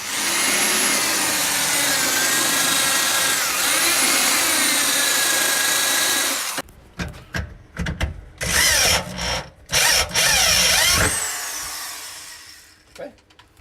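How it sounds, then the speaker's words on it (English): A power drill bores into a piece of metal while fuel lines are fitted to an E30 with an LS engine swap. A steady high whine drops in pitch, then short stop-start bursts follow. "So he's gonna start drilling the next piece of metal."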